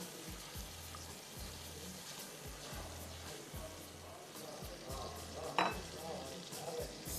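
Mutton paye being fried gives a soft, steady sizzle with a faint regular thumping underneath and one short sharp scrape partway through.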